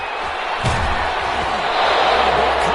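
Crowd noise from a PS4 American football video game, a steady broadband roar of stadium applause after a defensive play, with a brief thump early on and the cheering swelling slightly toward the end.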